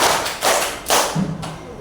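Students in a classroom clap together in a called-out counting pattern during a lesson, producing three broad group claps spaced about half a second apart, loud and close, with a faint voice underneath.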